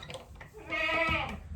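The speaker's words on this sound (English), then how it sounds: "We got one goat." A single close goat bleat, a wavering, drawn-out call in a homestead goat pen, rising out of quiet background rustle with no voices.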